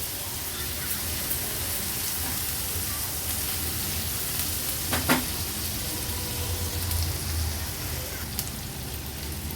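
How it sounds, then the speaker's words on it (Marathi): Ginger garlic paste frying in hot oil in a pan for a paneer and peas curry, a steady soft sizzle that persists throughout at moderate level, with a brief clink partway through. "आलं लसूण पेस्ट पण व्यवस्थित अगदी तेलावर शिजवून झाली आहे"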